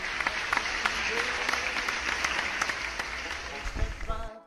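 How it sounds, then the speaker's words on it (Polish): Applause breaks out around a backyard chicken coop, a steady spread of clapping with sharp individual claps standing out, holding level before cutting off abruptly with a thump at the end. "Oczywiście wielkie brawa."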